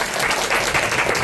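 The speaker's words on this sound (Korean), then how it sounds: "편집장님께 뜨거운 박수 한번 부탁드릴게요" An audience at a book talk in a Gwanghwamun bookstore applauds the editor, a dense, steady wash of many hands clapping at close range with no talk over it.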